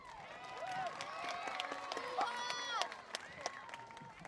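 Applause and cheering at a school talent show after a student council dance number, steady clapping with shrill whoops and excited voices mixed in throughout.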